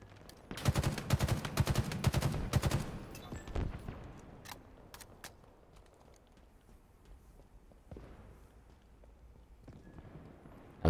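Rapid bursts of battle rifle fire in the Halo video game crackle up close for the first few seconds, then give way to quieter scattered game effects and a few isolated sharp shots.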